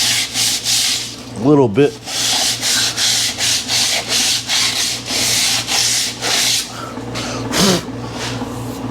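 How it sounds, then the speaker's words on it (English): Glazed drum brake pads on a shop truck are sanded by hand with 80 grit sandpaper, a close, rhythmic series of rough rasping strokes, with someone speaking briefly early on. "This is 80 grit sandpaper."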